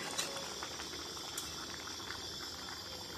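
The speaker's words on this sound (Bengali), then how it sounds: "তরকারিটা ফুটে গেছে আর একটু হবে" Pumpkin and prawn curry with potatoes simmering in a pot, giving a steady low bubbling and hiss throughout with a couple of faint clinks, close by and without talk.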